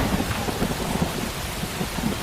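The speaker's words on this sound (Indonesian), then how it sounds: "Hujan deras masih mengguyur wilayah kita." Heavy rain pours down steadily, loud and close, with thunder rumbling low beneath the dense hiss and patter throughout.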